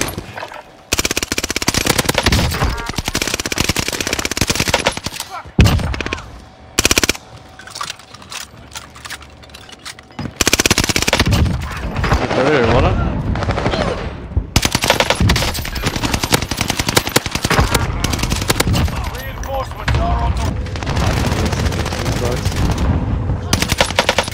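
Rapid automatic gunfire from the KGM40 in a competitive shooter game, loud bursts nearly continuous with brief pauses around five and ten seconds, with faint game voice callouts mixed in.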